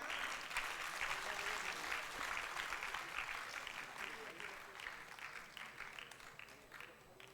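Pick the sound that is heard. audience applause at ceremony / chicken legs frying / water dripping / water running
audience applause at ceremony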